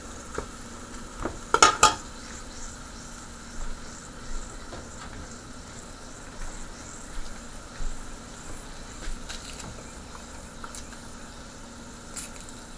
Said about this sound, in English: Some fresh onion. So let this fry.